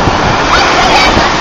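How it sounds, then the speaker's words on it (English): Ocean waves break at a beach in a loud, continuous rush of surf, heavily buffeted by wind noise close to the microphone. "A big wave came in, and that's how she got wet too."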